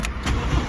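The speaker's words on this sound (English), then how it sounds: "good old Fiat 500s fires into life." A neglected 2013 Fiat 500 Pop's engine catches and fires into life, one short close-up burst of cranking and ignition roaring up under a loud, broadband engine note.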